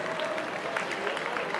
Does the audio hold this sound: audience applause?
yes